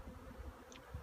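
Honeybees from a package being installed in a hive give a faint, low buzzing hum, with one brief higher-pitched buzz as a bee passes close.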